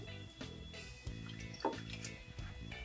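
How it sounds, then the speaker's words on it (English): Hot water poured into a coffee cup and French press pot, a soft continuous trickle and splash close by, rising slightly as the vessel fills, with no talking over it. "I'm going to pour some hot water into the coffee cup"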